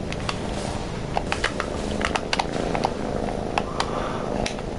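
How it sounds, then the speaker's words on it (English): A cat purrs close and steady for about five seconds, a continuous low rumble with soft clicks and pats on top. "Please ignore the noises of purring in the background."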